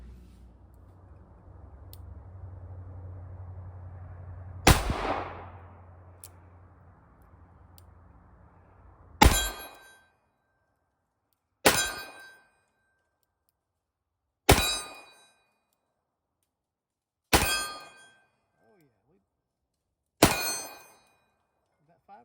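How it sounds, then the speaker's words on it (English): Six sharp revolver shots from a Smith & Wesson Model 10, fired double action at an outdoor range, ring out one by one at steady intervals of about three seconds, each loud crack decaying quickly, after a stretch of low background noise. "It's been a while since I've shot a revolver double action"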